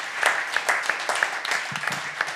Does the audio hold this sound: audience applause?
yes